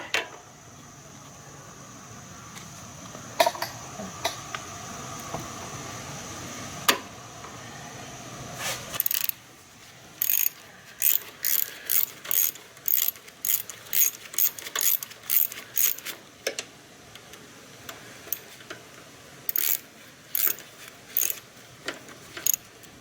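Ratchet wrench loosening a 12 mm adjustment bolt on the power steering pump of a fourth-generation Nissan Maxima, rapid clicking bursts, sparse at first then a long run of repeated short ratcheting strokes, close and fairly loud.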